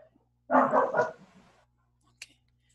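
A dog barks in a short cluster of about three quick barks, fairly close and loud indoors, followed by a faint brief sound and quiet room tone.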